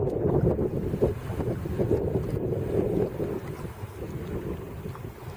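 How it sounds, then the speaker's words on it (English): Wind gusting across the microphone on a boat, with a low rumble, steady and fairly loud, water faintly beneath it and no voices. "Sky cleared up, wind's picked up."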